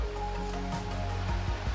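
A creek flowing near a morning campsite, a steady broadband rush of water with soft low thumps, continuous and fairly close, with no talk over it.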